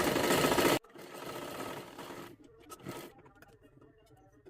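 A sewing machine stitching a salwar whirs in a loud, dense burst at the start, then runs more lightly in short, uneven stretches that taper off.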